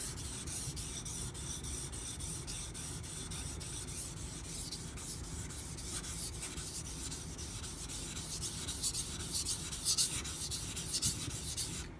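Steady rhythmic scraping of a Karaku Bunka knife with Aogami Super steel being thinned on a whetstone, close and continuous strokes that grow slightly louder toward the end, with no talking.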